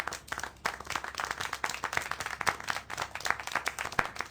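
Steady, dense clapping from a group, a continuous patter of hand claps with sharper individual claps standing out, fairly close and loud.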